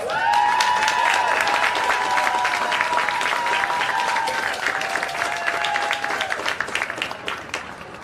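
Applause and cheering from a Democratic Party county chairs' brunch audience in McHenry County, a dense sustained clapping with whistles and shouts that stays loud throughout before easing slightly near the end.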